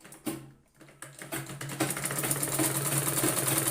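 A sewing machine runs a steady, continuous buzz of stitching, putting a one-inch seam along the reverse side of blouse fabric for a four-tuck blouse; it starts after a brief quiet moment and stays close and even.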